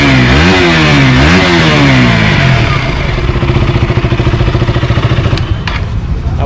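A 2018 KTM Duke motorcycle, second-hand with 40,000 km, starts up close by and revs in rising and falling bursts before settling into a steady, throbbing idle with a brief clatter near the end.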